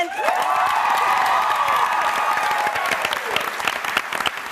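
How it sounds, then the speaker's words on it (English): A large audience at a television panel event applauds and cheers loudly and steadily, with whoops and shouts rising above dense clapping that fades slightly toward the end. "please, a round of applause for Andrew Lincoln"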